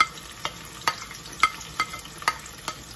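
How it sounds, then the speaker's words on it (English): Onions go into hot oil while making corned beef spaghetti bolognese, and they fry with a soft steady sizzle. Regular stirring scrapes and taps the pan about every half second, close by and moderately loud. "So my oil is hot. So I'm going to put my onions"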